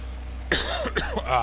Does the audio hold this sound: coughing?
yes